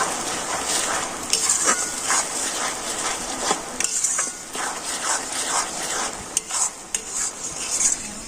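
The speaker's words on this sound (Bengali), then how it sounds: "তেলের সঙ্গে কিন্তু সমস্ত উপকরণগুলো খুব ভালো করে এইভাবে মিশে নিতে হবে" Ingredients for onion hair oil are stirred together in oil with a utensil, a quiet irregular series of scrapes and clinks against the pot over a soft sizzling hiss, no talking.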